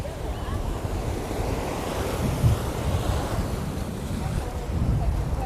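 Waves wash steadily against the rocks of Kovalam rock beach near Chennai, a continuous surf roar with wind buffeting the microphone and a few louder surges.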